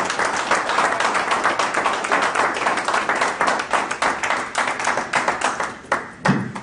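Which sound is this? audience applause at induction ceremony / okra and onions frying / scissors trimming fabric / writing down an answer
audience applause at induction ceremony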